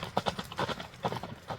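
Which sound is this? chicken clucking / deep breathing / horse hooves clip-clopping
horse hooves clip-clopping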